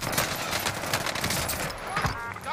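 Gunfire in the video game Warzone rattles as a dense, continuous burst of rapid shots, loud and close across the whole moment, with no clear speech over it.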